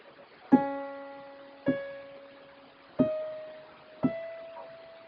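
An organ plays a short passage from a song: four separate sustained notes, each struck cleanly and ringing with rich overtones before the next begins, with no voices.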